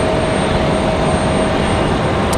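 A commercial airliner thunders down the runway on takeoff at Raleigh-Durham International Airport, a loud, steady broadband engine roar heard from nearby for a short stretch.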